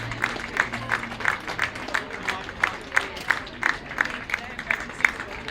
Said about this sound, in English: Victorians and New South Wales will start clapping their supporters.